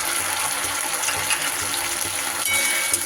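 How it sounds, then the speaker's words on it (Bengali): A sauce mixture poured into a pan of frying chilli peas, giving a loud, steady hiss and sizzle that carries on for the whole clip, close up with no voices. "এইবার আমি যে সসের মিশ্রণটা তৈরি করেছিলাম সেইটা দিয়ে দেব।"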